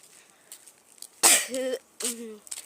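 Two sharp coughs close to the microphone, the first harsher, followed by a short voiced rasp, with quiet surroundings between them.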